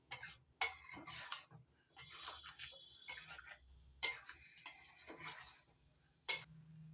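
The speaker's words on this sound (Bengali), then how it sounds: "এবার গ্যাসের ফ্লেমটা মিডিয়াম রেখে পোস্ত বাটা আলুর সঙ্গে 2-3 মিনিট নাড়াচাড়া করে মিশিয়ে নেব" Potato being stirred with poppy seed paste in a pan over medium flame, soft intermittent scraping strokes and light utensil clicks against the pan in an irregular rhythm, with no voices.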